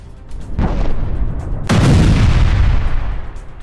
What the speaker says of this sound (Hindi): इजराइल की ताबड़तोड़ बमबारी से टायर के रिहायशी इलाके दहल गए।